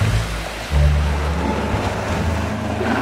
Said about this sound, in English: He's doing way too much with that boat